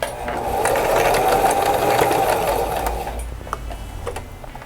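Sewing machine stitching a fabric notebook cover, beginning and ending with backstitching, a loud, close, steady motor whir for about three seconds that winds down into scattered clicks and handling sounds.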